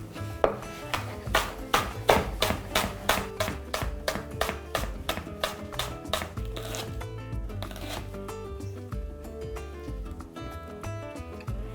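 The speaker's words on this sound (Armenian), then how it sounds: "Մոտ 5 սանտիմետր կտրում ենք երկարությամբ և կիսաօղակների։" A knife slices a vegetable into half-rings on a cutting board while soup with crab and mushrooms is being made: about twenty crisp, evenly spaced chops, close and clear, that then fade into softer scraping.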